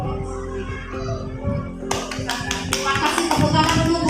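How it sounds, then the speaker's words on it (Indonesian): Teachers in a workshop session break into applause, a burst of many hands clapping that swells in the second half and stays loud to the end, following a stretch of background talk. "Terima kasih, tepuk tangan untuk Bu Vina"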